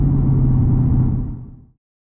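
A Lexus IS F with a 420 horsepower V8 roars with a steady, deep engine rumble on an open country road, loud and close at first, then fading quickly into silence.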